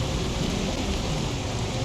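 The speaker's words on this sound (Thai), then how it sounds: "เสียงฝนทำให้มันไม่ได้ยินเสียงรถนะครับ" Heavy storm rain pouring in the zombie survival game Project Zomboid, a dense, even hiss that stays steady and fills the whole short stretch without voices.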